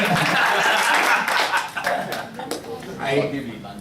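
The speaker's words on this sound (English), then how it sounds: "Please, give me a round of applause." Audience applause at a Rotary club disaster relief gathering, a burst of clapping with some chuckles that thins out over a few seconds under background voices.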